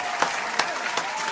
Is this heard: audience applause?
yes